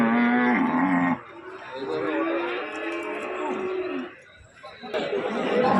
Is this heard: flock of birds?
no